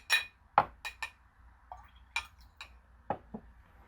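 A glass of water set down and handed over at a bedside, giving a few light clinks and taps of glass spread across a quiet few seconds, close and soft.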